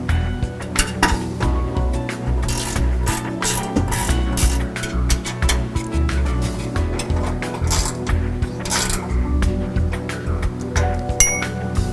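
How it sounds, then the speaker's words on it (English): A wrench tightens the nuts on a Ford Super Duty skid plate, giving close, busy metallic clinks and ratcheting clicks in an irregular rhythm throughout. "We'll take the front two nuts and put them on and tighten them"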